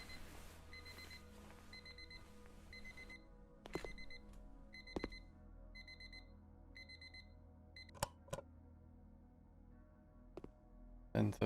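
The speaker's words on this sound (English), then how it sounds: "Oh god, it's the alarm clock again." An alarm clock in the video game The Shattering rings in repeated high electronic beeps at a steady pulse, moderately loud over a low ambient hum, with a few sharp clicks and no speech.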